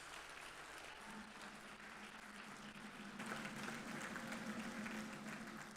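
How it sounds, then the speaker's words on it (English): A crowd applauds the Director General of NAPTIP at a World Day Against Human Trafficking event, a steady wash of clapping that swells slightly partway through and carries on without talk. "I'd like us to please give the Director General of NAPTIP a very big round of applause."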